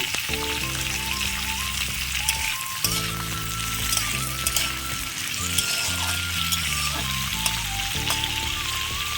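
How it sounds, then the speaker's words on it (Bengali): Potatoes and capsicum fry gently in oil over a low flame, giving a continuous soft sizzle and crackle that sits under steady background music. "অল্প আঁচে একটু ভেজে নেব"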